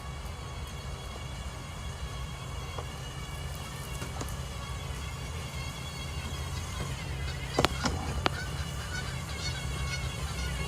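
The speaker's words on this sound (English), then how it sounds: "I mean, you guys can hear those geese," Geese honk repeatedly from somewhere near trees where they nest, their calls moderately distant and scattered over a steady outdoor background hum, with a louder burst of honks partway through and no speech.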